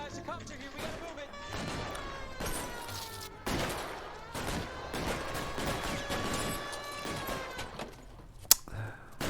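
Gunfire in the 1940s Los Angeles crime game L.A. Noire, a rapid string of sharp shots popping under an orchestral music score, moderately distant, ending with one sharp crack near the close.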